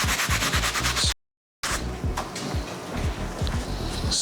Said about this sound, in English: So what I'm gonna do is take this medium bristle brush